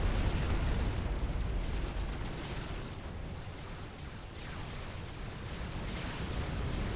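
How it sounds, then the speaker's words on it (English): Naval bombardment in the Supreme Commander strategy game, dense rumbling explosions and booming artillery impacts layered into a continuous roar, with deep low thuds throughout. "they do have the edge when it comes to direct fire bombardment"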